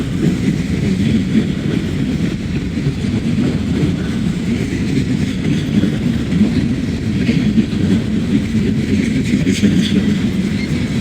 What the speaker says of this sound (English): DPU coming through.